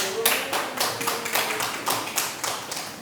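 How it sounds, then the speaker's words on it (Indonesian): Hands clapping in a classroom after a lesson, a run of separate, fairly evenly spaced claps at moderate loudness with no talk. "Tepuk tangan"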